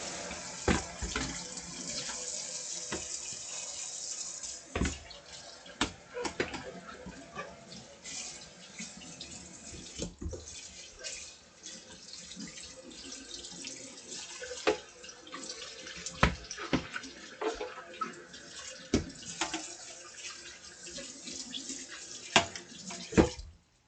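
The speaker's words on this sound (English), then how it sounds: "this we're gonna need to wash again with soap and hot water" A kitchen tap runs with hot water while something is washed with soap, giving a steady stream with splashes, drips and occasional clatter.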